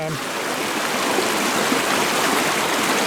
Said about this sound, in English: a nice little waterfall up here